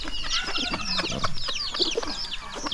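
Hens with their chicks cluck and chirp on a farm, a dense, busy mix of short clucks and high peeping calls, close and steady without pause.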